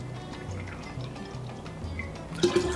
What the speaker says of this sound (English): And then we add our brandy.